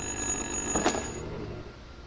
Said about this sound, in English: Answer the goddamn phone!